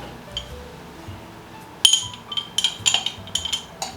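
A Luxardo cherry drops into a coupe glass for a Manhattan cocktail, giving one bright clink, then a run of lighter glass taps and pings, close up and without voices.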